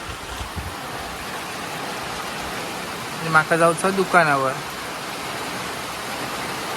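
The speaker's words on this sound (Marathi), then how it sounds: "पाऊस काय थांबतच नाही" Rain falls in a steady broadband rush outside, with a short spoken phrase in the middle.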